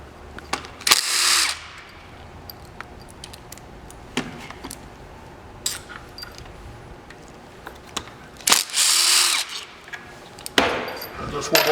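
An 8 millimeter socket works loose the four bolts holding the intake on a V-twin engine. Short metallic ratcheting bursts and clinks repeat at intervals between quiet stretches, close and fairly loud.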